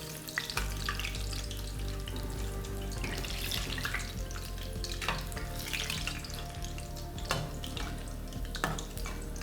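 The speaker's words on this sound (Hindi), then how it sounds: "हमारे भल्ले डीप फ्राई हो रहे हैं" Dahi bhalla dough balls deep frying in hot oil, giving a continuous soft crackling sizzle with scattered pops, fairly quiet and close, with no voices.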